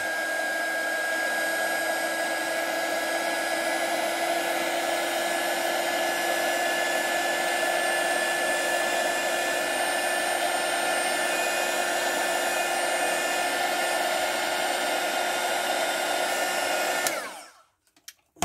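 A heat gun blows a steady, loud, unbroken whoosh with a faint whine while embossing a letter on a handmade card, running alone for about seventeen seconds before cutting off.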